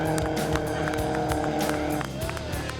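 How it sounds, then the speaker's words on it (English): A 1990 Nissan 240SX drifting through practice runs, engine snarling loudly with rapid revving and shifting pitch, squeals and tire noise mixed in, under faint background voices. "Miggs is compensating for his car's lack of power and pulling off some killer drifts"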